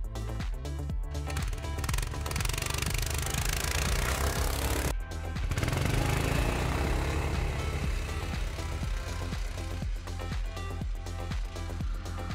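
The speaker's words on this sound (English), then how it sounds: "Now let's check the maximum speed of the snowmobile." A new snowmobile running flat out on hard snow, a loud continuous engine roar with rattling track clatter, a brief dip midway, then surging on steadily at full speed.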